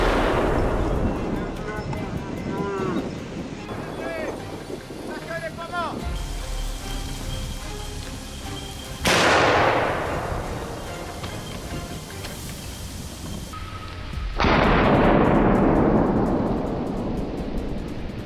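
A single sharp gunshot during a wild boar hunt in a forest, loud and close, with a rolling echo that fades slowly, followed by more booming reports later in the clip.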